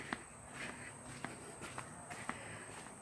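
Footsteps walking along a slippery path to a waterfall at Jeram Tok Din, Kuala Nerang, Kedah: a series of light, irregular steps, fairly faint, over a steady background hiss of flowing water.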